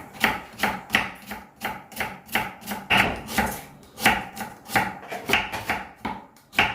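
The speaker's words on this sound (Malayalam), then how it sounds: "ഉള്ളി കംപ്ലീറ്റ് ആയിട്ട് അരിഞ്ഞു കഴിഞ്ഞു" Onions being chopped with a knife on a board while preparing biryani: steady, rapid chops repeating about three times a second, close and crisp, with no talking.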